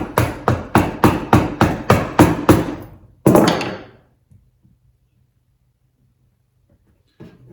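Chisel struck by a mallet while cutting a mortise in a timber mallet head: about eight evenly spaced sharp close blows, one heavier ringing strike, then near silence with a faint knock at the end.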